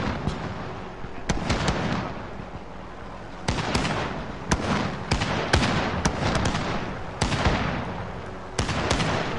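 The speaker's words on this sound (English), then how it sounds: "Shotgun." Shotgun blasts in a Call of Duty match, about seven loud, sharp booms at irregular intervals of one to two seconds, each with a short ringing decay over a low steady game background.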